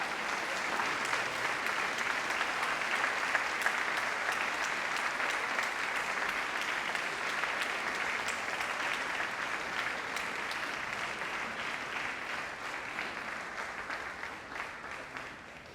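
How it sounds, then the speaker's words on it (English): Graduands applaud their family and friends at a graduation ceremony, a large crowd's sustained clapping that holds steady for a long stretch and slowly eases toward the end. "give them a big round of applause"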